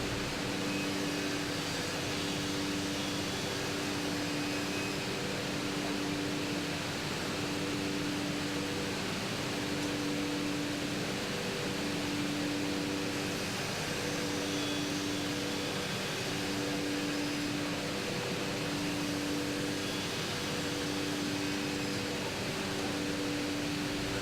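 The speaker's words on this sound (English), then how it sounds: "using the saw blade mounted in the 5-axis spindle, it cuts the lock rail and the kick rail to length." A 5-axis RD132 PRISMA CNC machine cuts door lock and kick rails to length with a spindle-mounted saw blade, producing a steady loud broadband roar with a droning motor tone throughout, no talking.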